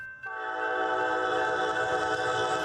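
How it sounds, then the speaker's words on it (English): A train horn blares in a sustained, loud chord as the train bears down on railroad tracks at a crossing, starting abruptly and holding steady without a break, with no voices. "all while the train is barreling down the tracks and the horn is blaring"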